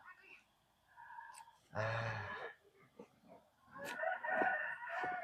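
Chickens crow and cluck nearby in several separate bursts, with a loud crow early on and a run of clucking calls toward the end.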